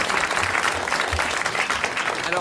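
A TV studio audience claps steadily in a brisk, even patter of hands that stays fairly loud and continuous from start to finish.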